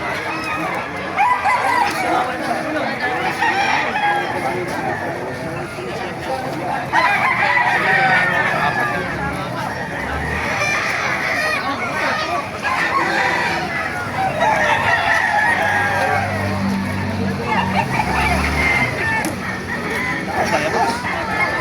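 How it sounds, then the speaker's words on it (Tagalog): Several roosters crow over a busy, noisy outdoor background in Baliwag, with other fowl clucking nearby and voices murmuring throughout. "Papakita ko sa inyo mga manok dito sa Baliwag"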